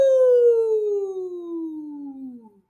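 A single voice imitates a siren with a loud, sustained "woo" that glides steadily downward in pitch for over two seconds before trailing off, heard alone and close.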